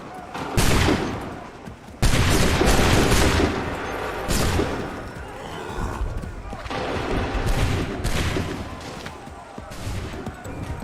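Musket volley fire in Assassin's Creed 3, with several loud, dense bursts of massed shots crashing out one after another over about ten seconds, each followed by rumbling decay and battlefield noise.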